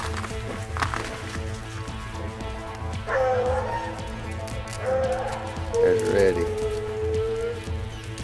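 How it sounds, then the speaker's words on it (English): A few dog barks and yips ring out at intervals over a steady outdoor background with some movement noise, fairly close by. "There's Foxy just barked right there"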